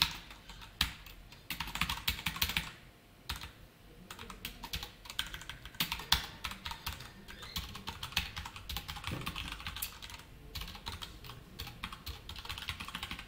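JavaScript code being typed on a computer keyboard, with a dense, steady run of close key clicks and clacks for the whole stretch, quiet and continuous with only brief pauses.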